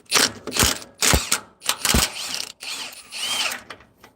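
Socket wrench ratcheting a strut bolt loose during a front strut replacement, a close series of quick mechanical clicks and clatters in short bursts separated by brief pauses.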